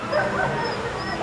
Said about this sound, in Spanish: Aquí están ofreciendo perros para adoptar en la calle.